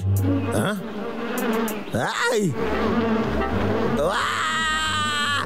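Cartoon bees buzzing in a comedy chase, whiny insect drones rising and falling in pitch with bursts of loud buzzing, mixed with animated character sounds throughout.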